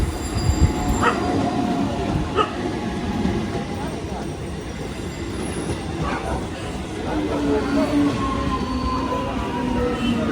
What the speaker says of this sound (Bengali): এখন আসছে Bandel two Howrah brand new ICF train